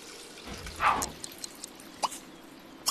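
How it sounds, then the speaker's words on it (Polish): Broken toilet in The Sims 3 video game giving off faint water noises, a soft gurgling plop followed by scattered small drips and ticks, quiet and intermittent against a hushed background. "A, kibel się popsuł znowu."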